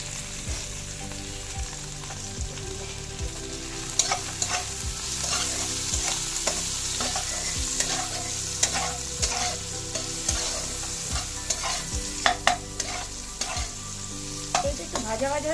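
Okra seasoned with salt and turmeric fries in a pan under a steady, close sizzle, with regular scraping strokes of a spatula stirring it throughout; no one speaks.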